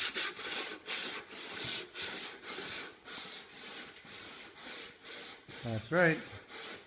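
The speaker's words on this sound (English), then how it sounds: "Are you sanding?" Steady back-and-forth rasping strokes of sanding on a wooden birdhouse, rhythmic and close, with a brief voice and a short squeaky sound near the end.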